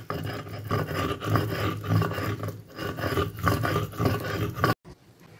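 Mustard seeds and salt being ground into a paste on a stone, a steady close rasping and rubbing with rhythmic strokes that stop abruptly near the end.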